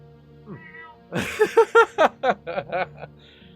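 A cat meows in the online game Lord of the Rings Online: a quick run of about six short, close, moderately loud calls in a steady rhythm, after a fainter sound at the start.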